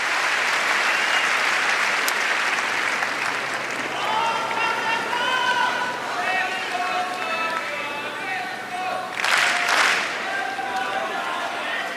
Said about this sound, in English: Crowd sounds slightly sleepy.